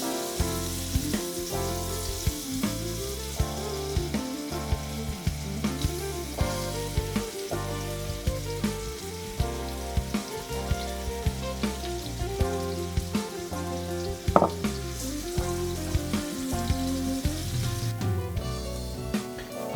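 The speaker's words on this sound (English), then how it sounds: "Add the shrimp and sauté for about 2 minutes, stirring continuously until they start to turn pink." Shrimp sautéing in a pan for a Spanish shrimp pasta, stirred continuously, give a soft, steady sizzle with small scraping ticks, faint beneath prominent background music.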